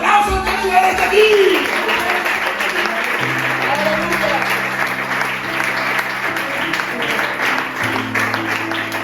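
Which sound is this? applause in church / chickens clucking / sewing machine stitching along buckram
applause in church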